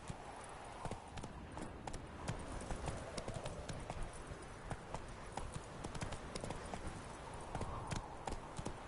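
Roach, the horse from The Witcher 3: Wild Hunt, gallops with quick, evenly spaced hoofbeats, fairly close but moderately quiet, alongside a steady ambient wash with no talk.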